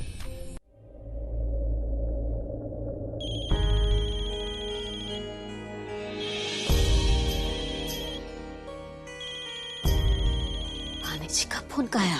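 A telephone ringtone plays loudly in a domestic drama scene, a repeating electronic melody that rises in layered bursts over a low background rumble for the whole stretch.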